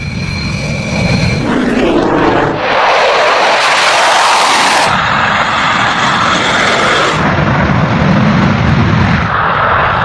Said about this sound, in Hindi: ये भारत के रफाल रात के अंधेरे में उड़ान भरा है